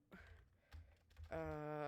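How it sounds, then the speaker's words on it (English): Quiet typing on a computer keyboard, a few soft taps, followed by a steady tonal hum. "I'm typing in all caps."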